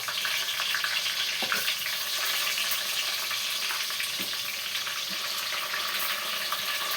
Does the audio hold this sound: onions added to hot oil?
yes